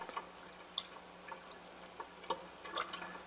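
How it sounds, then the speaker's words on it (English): Water from a water ionizer rinses a test tube, with scattered drips and splashes against a faint running background, close but quiet, without speech. "We'll rinse the test tube out."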